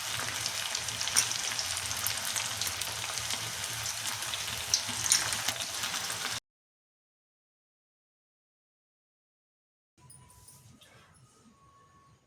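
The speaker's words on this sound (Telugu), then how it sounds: "లో ఫ్లేమ్లో ఫ్రై చేసుకోవాలి కొంచెం, ఎందుకంటే లోపల కూడా ఉడకాలి కాబట్టి." Veg manchurian balls frying in oil on a low flame give a steady, moderately loud sizzle for about six seconds, then a few seconds of silence before a fainter return of the sizzle.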